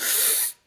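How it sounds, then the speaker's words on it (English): A sharp, hissing inhale through the mouth, close and breathy, lasting about half a second before cutting off into silence. "when you breathe in through the mouth into the belly"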